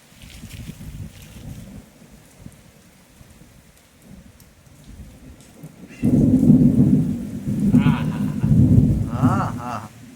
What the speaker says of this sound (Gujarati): વીજળી ને ભડાકા સાથે.